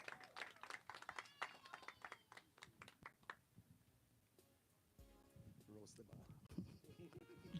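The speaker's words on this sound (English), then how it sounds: "let's give him a round of applause" Audience applause at a live music night, with a patter of scattered claps from a modest crowd fading into near silence, followed by voices and other background sounds.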